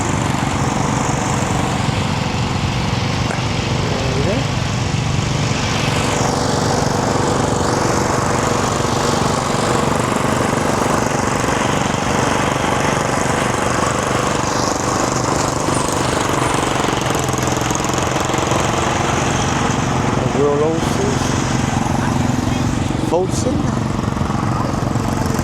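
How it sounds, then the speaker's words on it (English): Vintage and classic tractor engines run at a steam fair, a steady loud rumble with knocking, chugging texture throughout, with people talking nearby under the engine noise. "Range of new tractors."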